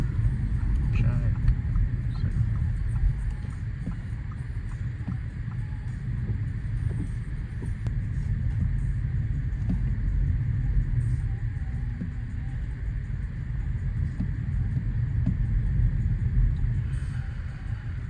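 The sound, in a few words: car driving home in rush hour traffic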